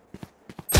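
Gunfire in the shooter game Valorant: two pairs of quick muffled shots, then a loud burst of fire at the end, close and sharp, with no talking over it.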